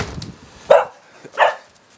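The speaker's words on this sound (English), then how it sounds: "Don't you start barking at me." Two short barks from a nearby dog in a garden shed workshop, spaced well apart, with quiet pauses between them.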